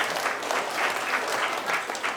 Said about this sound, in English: Give yourselves a huge clap.